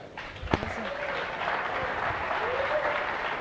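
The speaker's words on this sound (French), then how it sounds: "the leaders clap their hands right now." Audience applause at a leadership talk, a steady wash of many hands clapping through the whole moment, with a faint voice heard briefly underneath.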